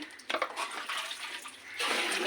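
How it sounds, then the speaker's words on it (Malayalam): Water scooped and poured by children cleaning out a storage tank, splashing in uneven bursts that swell louder toward the end, with no talk. "വെള്ളം കോരി ഒഴിക്കുമോളെ."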